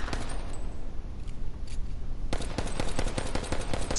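Rapid machine gun fire in a video game, starting after a couple of seconds of background noise and continuing as a steady, fast stream of sharp close shots.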